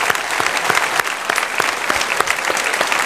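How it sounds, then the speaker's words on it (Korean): A church congregation at a Sunday worship service applauds to greet multi-ethnic members, with steady, dense clapping from many hands that is close and loud throughout. "박수로 우리 안녕하세요"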